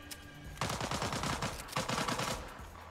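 Rapid automatic gunfire in a shooter video game, two quick bursts of cracking shots close and loud, with no talking over them.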